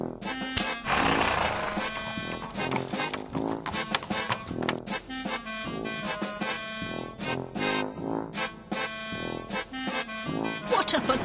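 A horse in the video game Adventures of Bertram Fiddle, heard as a loud neighing whinny over busy game music, with a voice calling out nearby.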